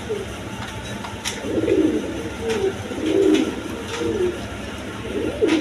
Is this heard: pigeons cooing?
yes